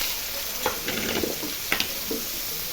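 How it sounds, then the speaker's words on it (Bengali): Soybean chunks fry in oil in a wok, giving a constant close hiss broken by a few light stirring scrapes and taps. "তো এই সোয়াবিনটাকে ভেজে নিচ্ছি"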